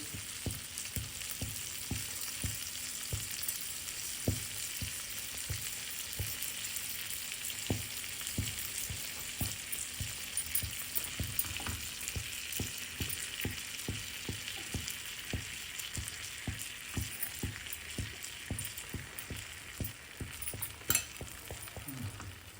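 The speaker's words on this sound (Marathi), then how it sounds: "चमच्याने आपण लोणी पुन्हा बटर चारी बाजू सोडतो आहोत म्हणजे खालून ते छान भाजलं जाईल" Garlic masala pav roasting in butter on a pan, a steady close sizzle with frequent small crackles and spoon or spatula taps as the bread is turned, no talking.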